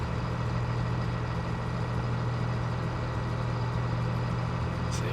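A low, steady engine idle of a base-game Claas Axion 800 tractor in Farming Simulator hums continuously with an even drone, no voices, holding at the same level throughout.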